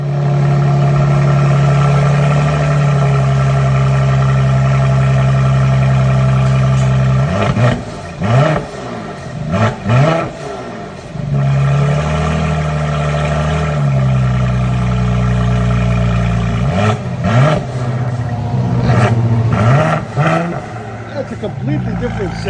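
Mercedes GLE 43 AMG with a 3.0-litre bi-turbo V6 and straight-pipe exhaust, muffler removed, loud steady idle drone broken by several sharp throttle blips and revs that rise and fall, with talk over it.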